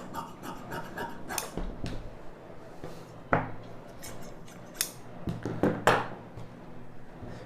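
Scissors cutting blouse lining fabric, with repeated crisp snips and a few sharper clicks at irregular intervals, close by over a quiet background.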